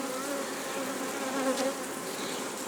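Bees hum steadily in a flowering linden tree, a dense, even drone from many insects at moderate distance, unbroken from start to finish.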